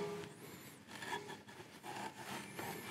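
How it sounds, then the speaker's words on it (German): Abrasive fleece rubs over the cut end of an air-conditioning refrigerant pipe in quick, quiet back-and-forth scrubbing strokes, close up, with no talking. "Dann gehe ich nochmal mit meinem Schleifvlies nach."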